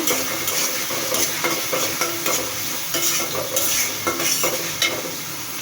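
Green chili paste and onion paste frying together in a pan for a beef, shapla stem and jackfruit seed curry, with loud, close sizzling and brisk rhythmic stirring scrapes repeating through the whole stretch, with no speech.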